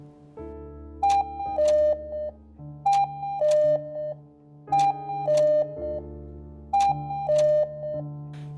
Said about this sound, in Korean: 진짜 뻐꾸기 말고 알람처럼 시간을 설정하고 그 시간에 맞춰 뻐꾸기가 나오며 우는 그 뻐꾸기 시계 소리요